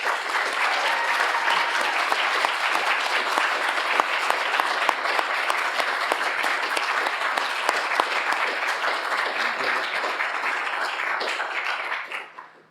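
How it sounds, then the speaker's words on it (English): A lecture audience applauds steadily and loudly at the end of a university inaugural lecture, a dense sustained wash of clapping that fades out abruptly at the end. "can we give another big round of applause to Dianna?"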